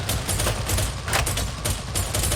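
Enemy ranged gunfire in Darktide crackles as a dense, continuous volley of rapid shots with no pauses, fairly loud and with no voices over it.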